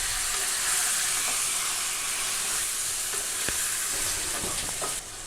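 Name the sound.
chicken frying in oil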